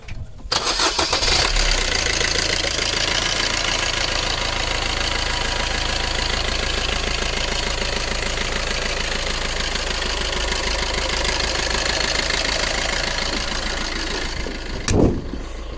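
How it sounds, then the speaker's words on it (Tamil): A Mahindra Bolero SUV engine idles with a steady, loud, rattling hum for a long stretch, with a brief clunk near the end. "இப்போ வண்டியோட இன்ஜின் சவுண்டையும் பார்த்தீங்கன்னா நம்ம கேட்போம்"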